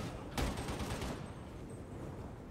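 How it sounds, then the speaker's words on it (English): Rapid gunfire from a chain gun in Warhammer 40K Darktide, a sharp burst near the start trailing into a dense, sustained rattle of shots with no voices. "cutting them down with the chain gun"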